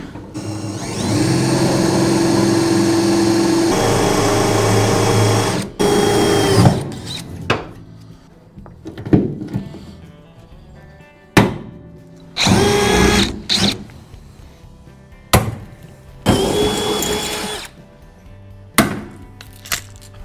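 A power tool sets rivets into the aluminum hinges of a jon boat, with a sustained whirring burst followed by several short, sharp bursts separated by pauses, loud and close with no talk.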